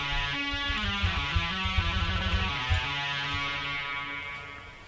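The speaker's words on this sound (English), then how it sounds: "Next we have this lead guitar." A bright, synthetic-sounding lead guitar line with chorus and OTT compression plays a quick melodic phrase over a full backing mix, wide and shimmering, steady and fairly loud.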